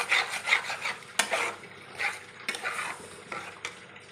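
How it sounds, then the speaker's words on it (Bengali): A spoon stirs a carrot mixture with a little sugar in a pot for carrot rasmalai, making uneven scraping strokes against the metal over a faint simmering sizzle. "যতক্ষণ পাক না আসে ততক্ষণ আমি এটাকে নাড়তে থাকবো।"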